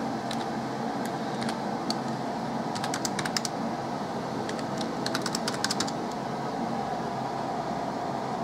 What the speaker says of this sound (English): Put a little password right there.